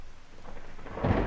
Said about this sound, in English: Rain poured outside